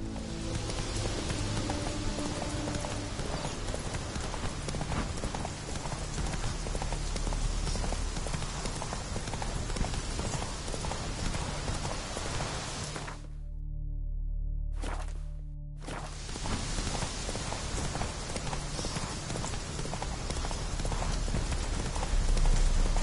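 A horse gallops in a video game, rapid rhythmic hoofbeats with a pattering of rain that cut out briefly for about two seconds midway before resuming just as steadily.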